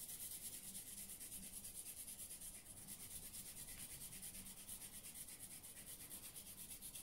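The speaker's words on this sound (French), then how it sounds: "ça c'est une râpe spéciale gingembre, mais on peut utiliser n'importe quelle râpe de cuisine pour râper" Fresh ginger rubbed against a dedicated ginger grater gives a soft, steady rasping scrape, fast and even, close but quiet, with no talking.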